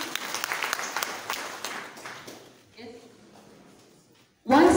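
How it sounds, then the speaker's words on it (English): Scattered clapping under a voice speaking at a girls' school form one orientation, fading out into near quiet before a sudden loud burst at the very end. "Madam Susan, clap for her."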